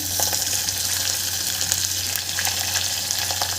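Onion sizzling in a pan after ginger and garlic, part of cooking veg dal khichdi, a steady close hiss of frying with no break.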